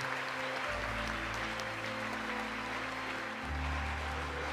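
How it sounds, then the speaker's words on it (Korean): A crowd claps steadily at a lecture in Korea, a dense patter of applause heard at a distance over a low electrical hum. "큰 환영의 박수를 보내겠습니다."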